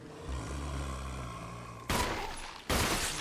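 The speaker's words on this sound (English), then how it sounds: "Let me use my handgun for this." Handgun shots in the Resident Evil HD Remaster video game, with two sharp, loud reports spaced under a second apart, set over a low droning game ambience.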